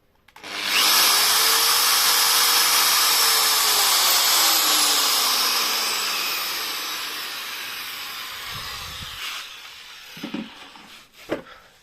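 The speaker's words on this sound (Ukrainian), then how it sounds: "Ще раз тестуємо дрельку." A power drill whines loudly at high speed for several seconds, pitch drifting as it winds down, followed by a few short bursts and clicks.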